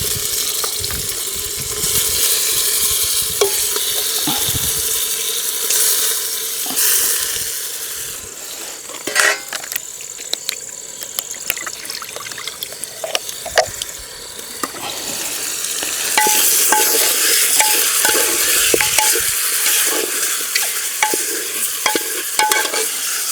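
Chicken is stirred and fried in masala for biryani, cooked outdoors on a farm: a loud continuous sizzle with repeated scraping and clanking of a spoon against the pot, rising in intensity toward the end.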